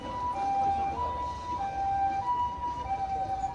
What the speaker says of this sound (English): If you ever wanted to know what a Japanese ambulance looks like, sounds like.